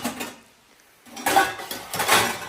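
Ginger is pounded for masala chai in a home kitchen: a few sharp, close metallic knocks and clatters in two bursts with a short pause between.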